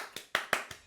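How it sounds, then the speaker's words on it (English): Four sharp hand claps at an uneven pace, close and fairly quiet, from a streamer applauding himself during a Mahjong Soul game. "I'm applauding for myself."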